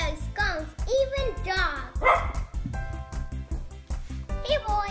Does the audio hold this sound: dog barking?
yes